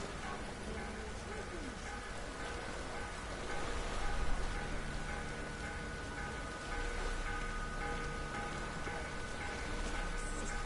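Steady rain falls in The Witcher 3: Wild Hunt, a dense, even hiss with faint ticking drops that runs the whole time beneath other game sounds.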